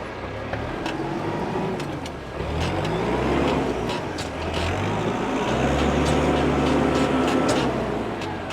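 A 2009 New Holland T4050F orchard and vineyard tractor with a cab and a 95 hp turbo diesel runs steadily nearby. Its loud, even engine drone rises a little in pitch and strength partway through.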